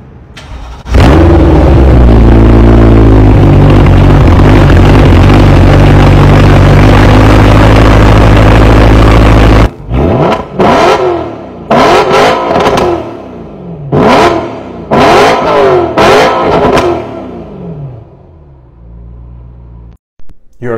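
A human voice mimics a car engine, the Go-Go Tomato, first with a long steady loud droning hum of startup and idle, then with a series of rising and falling revving bursts of exhaust.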